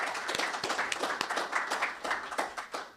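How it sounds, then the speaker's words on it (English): A university audience gives a warm round of applause for a dean, steady close clapping from many hands with an uneven, rapid rhythm filling the whole stretch. "I want to start by asking for a round of applause to Dean David Birdsell"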